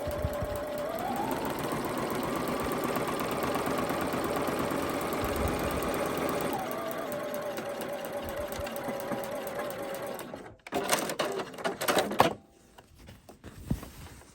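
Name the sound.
sewing machine top-stitching a seam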